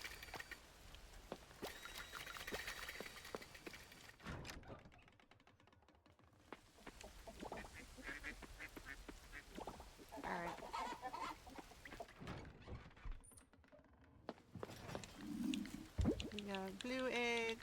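Fowl calls from ducks, alongside quail, in the farming game Coral Island sound in short repeated honks and clucks under frequent talking.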